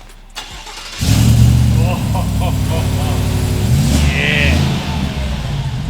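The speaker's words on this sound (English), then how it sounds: "That's what you want to hear, the rumble." A Chevy ZR2 fitted with a Manta stainless exhaust cranks briefly and fires up, then settles into a deep, loud, steady rumbling idle close by, with a voice briefly heard over it.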